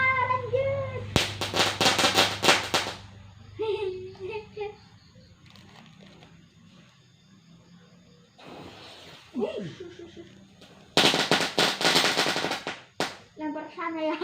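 Firecrackers and fireworks set off in front of a house: two long bursts of rapid crackling pops, with scattered single bangs and children's voices in the quieter stretch between them.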